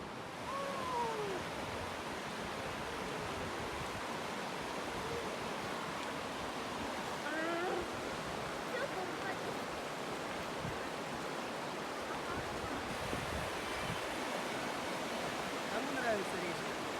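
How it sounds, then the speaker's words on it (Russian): A river stream near Sochi flows with a constant, dense rushing of water over the whole stretch, steady and moderately loud, with faint bird chirps in places. "Пошли на речку."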